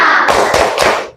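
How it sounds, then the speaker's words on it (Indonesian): A school class claps a short rhythmic 'tepuk semangat' chant together, with a few loud, close claps in quick succession that stop abruptly. "Tepuk semangat."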